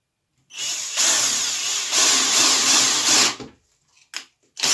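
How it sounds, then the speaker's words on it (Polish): A power drill with a 10 mm bit whines steadily as it bores through material for a few seconds, then stops, followed by a couple of brief knocks. "I teraz wiercimy wiertłem, słuchajcie, dziesiątką."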